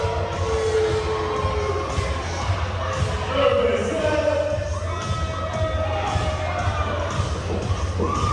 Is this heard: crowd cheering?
yes